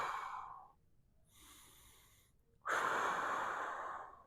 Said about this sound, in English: So just breathing into this stretch.